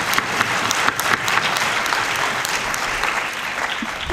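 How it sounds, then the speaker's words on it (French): An audience at the BD-FIL comics festival opening night at the Capitole in Lausanne applauds the festival volunteers, with sustained, even clapping from a full hall and no voices over it. "Je crois qu'on peut chaleureusement là aussi les applaudir."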